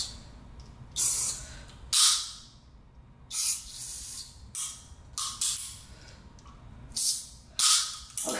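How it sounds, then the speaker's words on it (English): Gun scrubber aerosol cleaner sprayed onto a Taurus PT92-style handgun in short hissing bursts, about eight separate sprays of varying length with pauses between, close and fairly loud, no talking. "Once over with the gun scrubber here."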